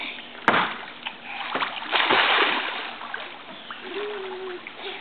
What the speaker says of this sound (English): Hunter, can you swim to me?